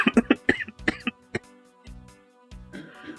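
A person coughs in a rapid cluster of harsh bursts, then a few more spaced-out coughs and throat sounds, close and fairly loud.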